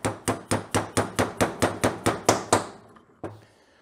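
A hammer taps a punch to drive the pins out of a 1982 Honda GL1100 Goldwing rear brake caliper. About ten sharp, evenly spaced metallic knocks ring out close by, then two more isolated taps follow.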